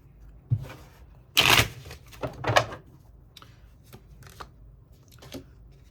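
Tarot cards are shuffled in a few quick riffling bursts, close and crisp, with short pauses and lighter taps between them and no talking.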